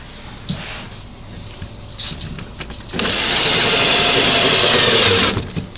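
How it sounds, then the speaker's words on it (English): A screw driven into a louvered teak console door with a power driver during kit installation, a steady close whirring burst of about two and a half seconds after quieter handling noises. "Go ahead and we'll put that screw in there."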